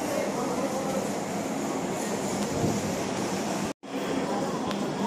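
Train from Krishnanagar pulling into platform 5 at Sealdah station, a steady loud rumble of wheels and station din that drops out abruptly for a moment near the end before resuming.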